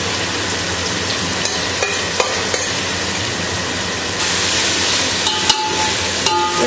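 Chicken marinade masala tipped into a hot frying pan and stirred for chicken mandi, a steady close sizzle and frying hiss with scraping stirs and a few sharp clinks of the spoon against the pan.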